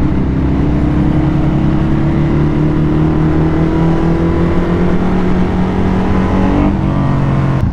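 Loud, steady drone of Ducati motorcycle engines with aftermarket exhausts at a club ride, with low harmonic tones rising slightly and holding close to the microphone, no talk.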